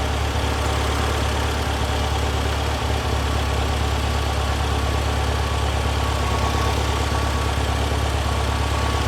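A 1978 VW Super Beetle with a 1776cc engine idles steadily and loudly close by, its even rumble unbroken by pops for the whole stretch.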